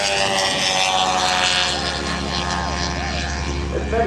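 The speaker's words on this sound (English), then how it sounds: "It's a very maneuverable, very quick little machine." A Cri-Cri, a tiny twin-engine homebuilt aircraft, flying at an airshow in Tauranga, New Zealand, its small engines giving a loud, continuous buzzing drone with pitch sweeping up and down as it maneuvers overhead.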